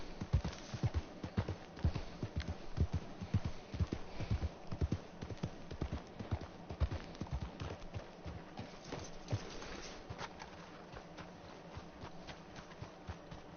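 Horse hooves clip-clopping at a steady walking rhythm in the Red Dead video game, a continuous run of moderately close hoof strikes on hard ground with no talk over them.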